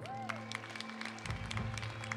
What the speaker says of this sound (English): Let's please give all of them a round of applause for their work.